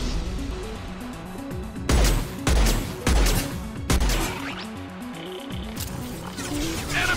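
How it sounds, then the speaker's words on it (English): Impact shot gunfire in Mass Effect 2 on Insanity difficulty: four heavy, booming blasts land about a second apart over a continuous game soundtrack, each one loud and close. "Firing an impact shot!"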